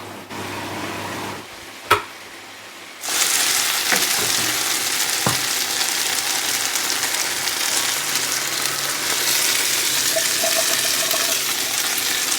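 Onions dropped into a hot pan for an Indian meal hiss into a loud, steady frying sizzle after a brief quieter moment with a single knock, the crackle holding on close and constant.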